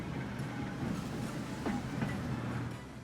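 Trams running on a light rail route in the city-building game Transport Fever 2, a steady rolling rail rumble with soft clicks and a faint squeal, continuous and moderately near.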